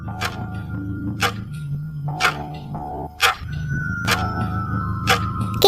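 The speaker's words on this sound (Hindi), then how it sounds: "घड़ी की आवाज़।" Steady clock ticking with a regular, even beat, loud and close, over a low droning background.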